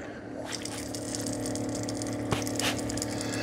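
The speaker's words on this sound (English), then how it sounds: "So it's filling that up with water." A Dreametech L10S Ultra robot vacuum and mop base pumps water into its mop area, a steady motorized hum with gushing and a few clicks, close and continuous.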